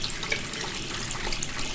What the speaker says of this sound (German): Wasser funktioniert schon mal.